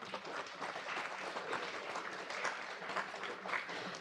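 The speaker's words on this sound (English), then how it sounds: "our appreciation speaks loudest through our applause." Sustained audience applause fills a hall at a state-level medical education event marking Doctor's Day, a dense, steady wash of many hands clapping at even loudness for the full stretch, with no talk over it.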